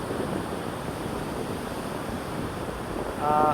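Rough sea waves break on the coast during rain, making a steady, faint wash of surf and wind, with a brief louder swell near the end.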